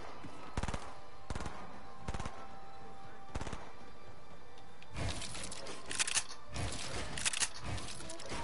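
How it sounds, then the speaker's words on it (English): Video game gunfire: five evenly spaced single shots crack out over a quiet background, followed by a denser cluster of rapid, louder shots near the end. "What, somebody just shot at me?"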